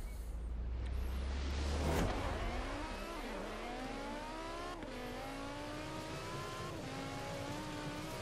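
BMW i8 racing in Forza Horizon 4, a continuous engine roar climbing through repeated gear shifts, loud and steady with rising and dropping pitch.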